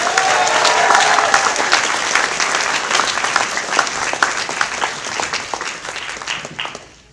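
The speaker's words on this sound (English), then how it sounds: "Please give a warm applause for John Patrick Lowry." An expo panel audience gives warm applause for voice actor John Patrick Lowry, dense clapping that starts loud and gradually thins into scattered claps before fading out.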